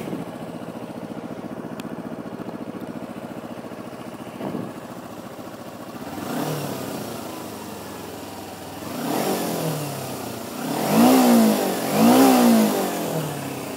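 A 2009 Kawasaki Ninja 250R motorcycle engine idles with a steady hum, then rises in repeated revs that grow louder and higher toward the end, heard up close with no talking.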